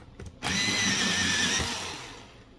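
Colored pencil, a gray, ground in an electric sharpener: a loud steady whirring buzz starting abruptly after a short clatter, holding for about a second and then tapering off.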